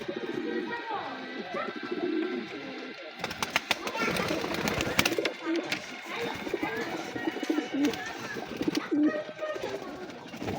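Pigeons, including young squabs, coo repeatedly in a loft during morning feeding, soft overlapping throaty calls near the microphone, with flutters and scuffles partway through.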